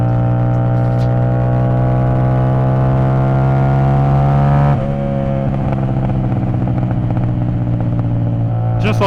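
A motorcycle holds a loud, steady high-rev engine note at 7,000 to 9,000 RPM, then the pitch drops sharply as it comes off throttle. A rough, crackling exhaust sputter follows through the deceleration.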